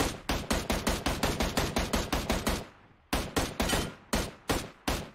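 Rapid automatic gunfire in the mobile game PUBG Mobile, a long steady burst of evenly spaced shots followed by a short pause and then a few more separated shots, loud and close with no talk.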